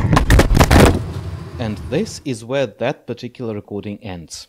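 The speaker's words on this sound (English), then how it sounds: "That noise you heard? That was the recorder taken off on a brief local flight en route from the desk to the floor." A handheld audio recorder tumbles off a desk onto the floor, giving a quick burst of loud, close clattering knocks in the first second, followed by someone talking.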